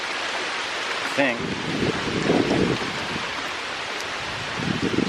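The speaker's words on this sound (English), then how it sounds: "now it's starting to rain" Rain begins falling outdoors where someone is working on a vehicle, a steady broadband hiss of drops that runs throughout, with voices talking over it.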